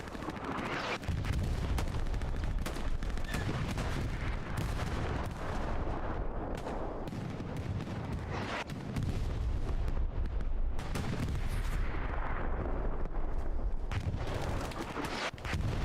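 Heavy artillery fire in the World War II shooter Hell Let Loose, during a competitive league match: repeated deep booming blasts and rumbling impacts roll through the whole clip, with short lulls between barrages.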